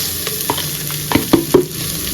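Curry leaves and soaked legumes hitting hot oil in a pan for a South Indian dish, a loud, close steady sizzle broken by a few sharp crackles and stirring knocks.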